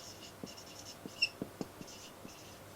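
Pen or chalk writing out a grammar rule during a lesson: a quick run of short, sharp taps and scratches, close and fairly quiet, with no talking.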